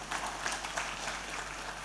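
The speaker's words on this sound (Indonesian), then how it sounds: "Tepuk tangan untuk Bapak Ibu semuanya" A brief, fairly quiet burst of audience clapping fills the hall at a large Arminareka seminar in Demak, steady throughout with no talk on top.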